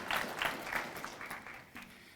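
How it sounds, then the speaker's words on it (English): Light, scattered applause from an audience at a school resource officer K-9 retirement ceremony, a few spaced bursts of clapping that fade, fairly faint and distant. "give our Sheriff's Department and our people a special applause"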